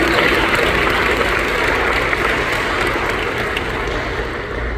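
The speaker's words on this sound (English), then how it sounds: "One more round of applause for all of our signees." Applause for student signees at a fall signing event in Alexandria, a dense, even crowd clapping that holds for several seconds and eases slightly at the end, with no talk over it.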